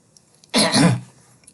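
A single short, harsh cough bursts out close by, lasting about half a second, with quiet surroundings before and after.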